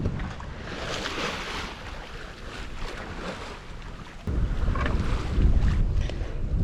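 Wind buffeting a sailboat offshore off the coast of Africa in about 10 to 11 knots, a steady rushing noise that grows louder partway through, with water washing along the hull.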